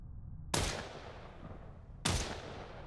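Two sharp gunshots ring out in a video game, spaced about a second and a half apart, each loud and close with a long fading echoing tail; no talking.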